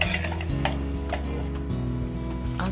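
Onions for a brain masala dish fry in oil with a continuous loud sizzle as a spoon stirs and taps against the pan, close up and with no speech.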